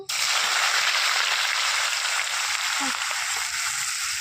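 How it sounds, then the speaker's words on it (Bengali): Onions frying for birista, crisping in hot oil for chicken biryani, give a steady, even sizzle that holds close and loud throughout, with no talk over it. "আর পেঁয়াজ বেরেস্তা করে নেব।"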